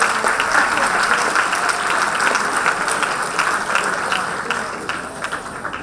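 A crowd applauds at the FameLab Italia regional final in Trieste as a museum curator is introduced, giving continuous dense clapping that tapers slightly toward the end.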